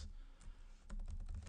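Typing a web address on a computer keyboard: a quick burst of close, crisp key taps, sparse at first and then a rapid cluster of keystrokes, quiet and alone.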